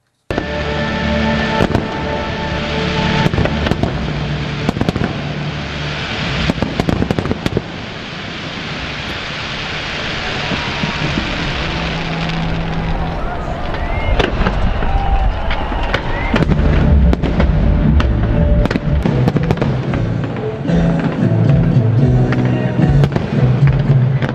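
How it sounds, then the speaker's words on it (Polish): Dense fireworks display over Szczecin at the PyroMagic festival, continuous loud crackling and booming bursts layered over each other for the whole stretch, with crowd noise faintly underneath. "Przez dwa dni festiwalu widzowie obejrzeli ponad godzinę pokazów pirotechnicznych na szczecińskim niebie"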